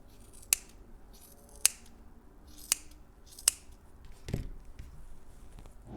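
Scissors trimming the bottom ends of yarn tassels on a crochet ripple throw, four crisp separate snips about a second apart, close and fairly quiet, followed by a soft rustle, with no talking.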